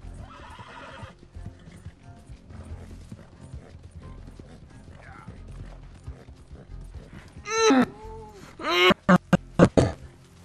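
In Red Dead Redemption 2, a horse's hooves clip-clop quietly along with faint creaks, then loud neighs and snorting whinnies burst out near the end, close and prominent.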